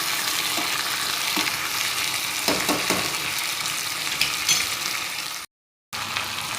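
Chickpeas with red chilli and salt sizzle steadily in a hot pan while being stirred, the close frying hiss broken by occasional scraping of a spoon, with a brief gap near the end.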